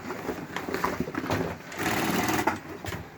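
A sewing machine stitches through steel wire mesh sewn into a fabric cover, giving a steady, close whirring hum that runs almost without a break and is heard alone.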